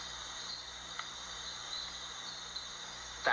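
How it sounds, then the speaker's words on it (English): Small dink frog calling at night in rainforest vegetation, a steady high chirring drone of calls persisting throughout, close and fairly loud, with a brief louder burst near the end. "Is that a frog call? Yep, there's our little dink frog."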